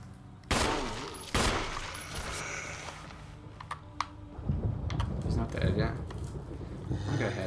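Gunshots in Resident Evil: two loud, sharp broadband cracks early on, then quieter gameplay noise and scattered clicks, with people talking throughout.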